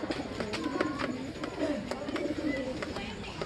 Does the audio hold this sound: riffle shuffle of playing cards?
no